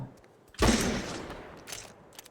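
A single loud burst of gunfire in a role-play game on a Ukrainian server erupts, then a decaying rumble and a few faint trailing clicks.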